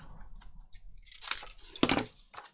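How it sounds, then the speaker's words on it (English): Scissors snipping through paper while an altered file folder is trimmed, a few quick crisp cuts close by, clustered near the end with no talk. "And cut that off on the inside of it."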